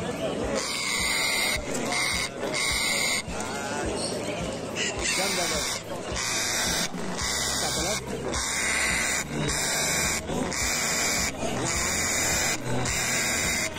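An African grey parrot called Casco screeches repeatedly at a busy Friday animal market in Cairo, its harsh, loud cries recurring in bursts over crowd noise, with people talking nearby.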